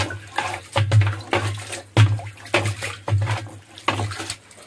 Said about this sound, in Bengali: এখানে পটাশের পানি গুলানো আছে, নেটটা ভালো হবে ধুয়ে ফেলতেছে